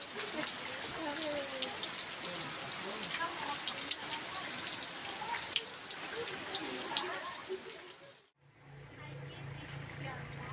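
Steady rain pours down outdoors with a continuous hiss and patter, while people talk nearby; the sound cuts off briefly near the end.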